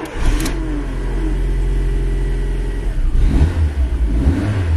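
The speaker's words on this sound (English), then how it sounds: "Check it out. I start the engine." A car engine cranks and catches, then settles into a loud, steady run close by, with a rising rev toward the end; no one speaks.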